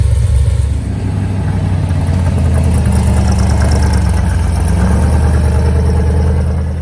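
Willys gasser hot rod pulling into a kustom car show, its engine a loud, steady idle with a heavy low rumble and slight revving throughout, close by with no talk.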